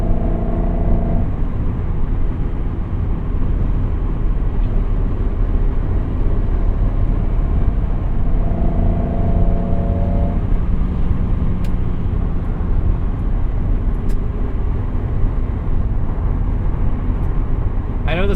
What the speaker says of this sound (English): Makes the greatest induction noise.